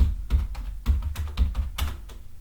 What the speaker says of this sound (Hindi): मैं टाइप कर लेता हूं